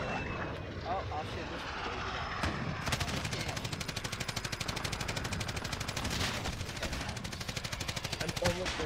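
Rapid automatic gunfire in the video game Modern Warfare, a steady stream of evenly spaced shots rattling on for several seconds over a noisy background of aircraft-like engine drone.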